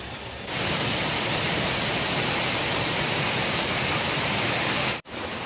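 A river stream near a waterfall in Biliran roars steadily and loudly, a dense broadband wash of rushing water, cutting off abruptly near the end.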